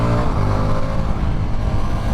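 A 2025 Ducati XDiavel V4 motorcycle roars steadily while being ridden on the road, a loud close engine drone with wind rush and no pauses.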